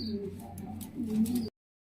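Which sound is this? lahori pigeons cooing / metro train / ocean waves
lahori pigeons cooing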